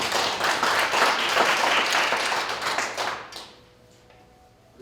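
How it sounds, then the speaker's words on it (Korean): Audience at a humanities book concert lecture hall applauding, a dense burst of clapping for about three seconds that quickly fades to quiet. "자, 박수 한번 받아주세요."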